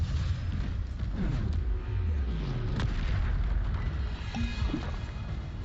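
Spell blasts from Bombarda casting in Hogwarts Legacy, a steady run of deep booming bursts and rumbles layered over continuous game noise, with no voices.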